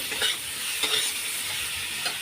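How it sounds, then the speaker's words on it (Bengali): Spice paste (masala) frying in a pan gives a soft continuous sizzle, with a few stirring scrapes close by and no voices. "এদিকে আমি মশলাটা নিই ঝটঝট করে কষিয়ে জল দেব"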